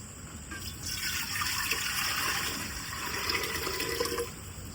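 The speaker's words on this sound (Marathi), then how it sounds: "तर आता पाणी ओतून घेतोय." Water pours steadily into a thick clay-coated cooking pot set up for parboiled rice, a continuous close splashing gush lasting several seconds before easing off.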